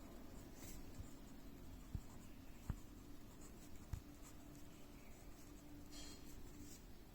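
Pen writing out a definition on paper: soft, close scratching strokes run steadily throughout, broken by a few faint taps, quiet and alone with no talk.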